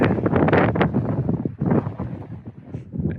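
Strong gusts of wind in Palo Duro Canyon buffet the microphone close up, a loud, uneven roar that surges and drops with each gust.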